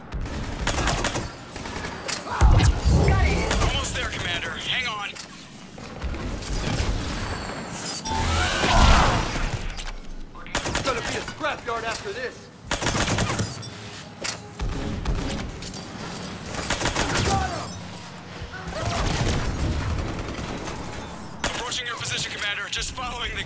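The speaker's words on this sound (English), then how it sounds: "just following the gunfire." Bursts of rapid gunfire and booms erupt repeatedly in the video game Mass Effect 3, loud and close, with voices talking between and over the shooting.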